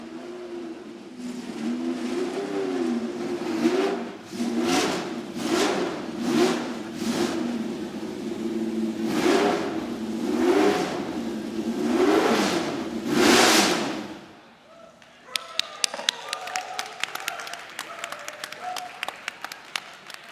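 A 1974 Alfa Romeo Tipo 33 TT12 race car arrives at an auction, its engine rising and falling through loud, rasping revs over about fourteen seconds before cutting off, followed by scattered applause and clicks.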